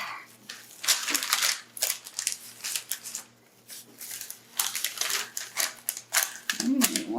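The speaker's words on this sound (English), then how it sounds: "Now I'm just going to cover this with some plastic wrap." Plastic wrap is pulled and crinkled over a tray of beef jerky strips, giving close bursts of crackling and rustling with short pauses between, fairly soft overall.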